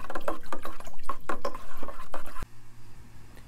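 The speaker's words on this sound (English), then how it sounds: "as always, you want to give it a good stir, let it sit a little bit between each different nutrient that you put in" Hydroponic nutrient water is stirred in a reused ice cream container, a series of close sloshing, splashing strokes that stop abruptly partway, leaving a quiet low hum.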